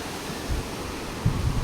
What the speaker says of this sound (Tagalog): Napakalakas ng alon mga kabus.